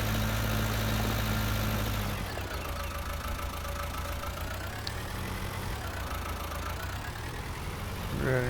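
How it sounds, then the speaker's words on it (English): A 130-horsepower Fiat tractor engine in Farming Simulator 19 runs loud and continuous, louder at first, then dropping to a steadier idle-like drone before swelling again near the end. "The Fiat is the biggest tractor we've got on the farm at 130 horsepower"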